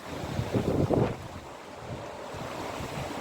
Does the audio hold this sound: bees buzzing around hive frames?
no